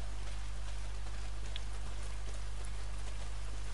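Rain falling in the video game Days Gone: a steady, faint hiss of rainfall with scattered small drop taps, continuous and even over a low background hum, with no talking.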